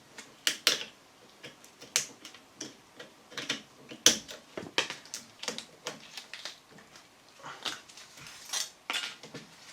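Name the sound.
releasing the clip on an Astra CV joint boot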